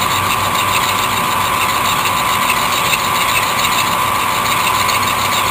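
A power tool trimming a metal part down to a radius, running as a loud, steady whine with a constant high tone and grinding texture, close and unbroken throughout.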